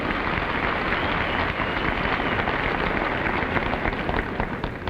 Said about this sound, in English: Go ahead, applaud. She deserves it.